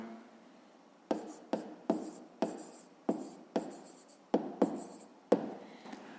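Handwriting on paper during a fifth-grade maths lesson, with nine or ten short scratchy pen strokes at an irregular pace, close and fairly quiet, and no talking.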